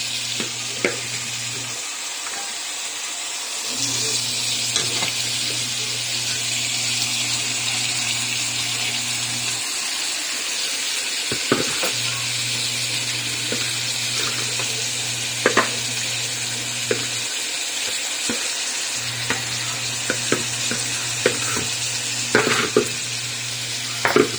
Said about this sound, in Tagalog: kumulo ng ating igado